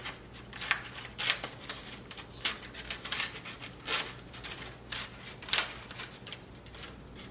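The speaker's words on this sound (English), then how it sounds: "So I'm going to take scissors because I want this to stay." Scissors snip repeatedly at an irregular pace, crisp close cuts with soft rustling between them, while making a doll.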